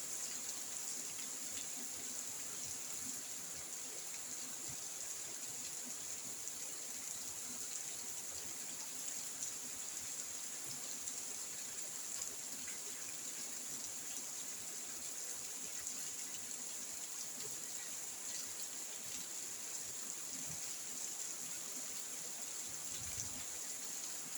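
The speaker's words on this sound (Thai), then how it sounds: "ฟังเสียงฝนเด้อพี่น้องเลยฟังเสียงฝนน้ำกัน" Steady, dense heavy rain falling in Bangkok without pause, a constant broadband hiss with faint drips and no voices.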